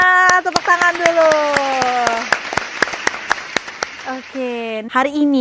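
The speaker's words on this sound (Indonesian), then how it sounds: "tepuk tangan dulu." An audience at an Indonesian talk event claps in sharp, evenly spaced beats, close and loud, while a voice speaks over the clapping.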